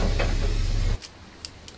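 A Volvo B7TL Enviro400 bus door in the OMSI 2 simulator shuts with a steady motor hum that cuts off abruptly, followed by a few light clicks and a thud as it seals against the frame.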